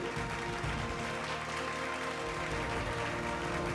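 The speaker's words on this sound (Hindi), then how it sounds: "एक जोरदार तालियां बिहार की इस बेटी के लिए।" Audience applause at the Zee Media Bhojpuri Samman 2026 awards ceremony, honouring the youngest legislator, Maithili Thakur, from Bihar. Steady, dense clapping fills the clip at an even, loud level, with no voices over it.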